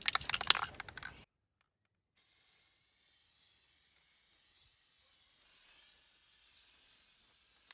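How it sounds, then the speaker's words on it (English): Spray paint can hisses as paint is sprayed onto a stencil on canvas: a few quick clicks and rattles first, a pause, then a soft, steady, fairly quiet spray hiss that carries on alone. "I'm spraying a little bit out to make sure I have any clogs or any blobs that will come out."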